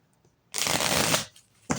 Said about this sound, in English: So I have the Heaven and Earth Tarot right now. I'm shuffling